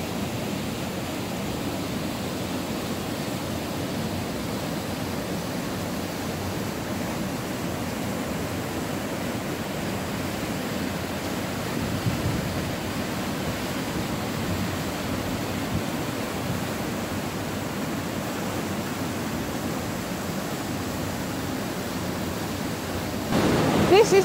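A waterfall on the Isle of Man rushes in a constant, even wash of broadband noise that holds unchanged for over twenty seconds, with no voices heard.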